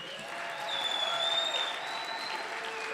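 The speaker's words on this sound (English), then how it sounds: "please give me an amazing round of applause" Audience applause at a gala, a sustained dense wash of clapping with some cheering, steady and moderately loud for a few seconds.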